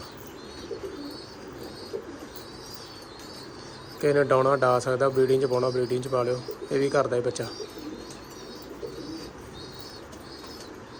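A pigeon coos in a loud, close, throaty burst of several rolling calls in the middle of the clip, with someone talking before and after and soft bird sounds in the background.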